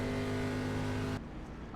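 A NASCAR Xfinity race car engine drones loud and steady at Daytona in iRacing, a sustained close roar that cuts off abruptly after about a second, leaving faint low rumble.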